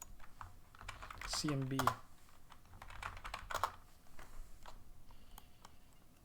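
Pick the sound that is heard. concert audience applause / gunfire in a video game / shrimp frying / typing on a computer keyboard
typing on a computer keyboard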